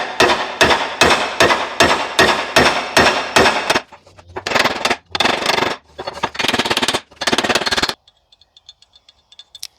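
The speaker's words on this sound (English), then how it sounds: "I'm going to try to hammer them with the sledge" A sledgehammer pounds the door hinge pins of a Ford LTD, a rapid series of loud metallic strikes in steady bursts with short pauses between, ending abruptly in near silence with no talking.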